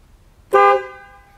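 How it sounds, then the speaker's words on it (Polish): The car horn of a Lancia Fulvia Berlina sounds one short, loud, bright honk up close, its tone ringing out briefly before fading. "W tym pierścieniu mamy klakson, ale on się uruchamia po przekręceniu zapłonu."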